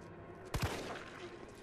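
Two quick gunshots crack close together from the video game Resident Evil 3 Remake, sharp and loud against a quiet background, their echo fading out afterward.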